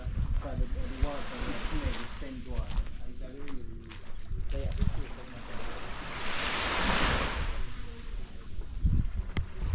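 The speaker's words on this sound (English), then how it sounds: "This is the beach" Surf rolls onto a closed beach at East Prospect, St Thomas, a steady wash of waves with wind buffeting the microphone, as someone talks over it and a louder wave surges midway.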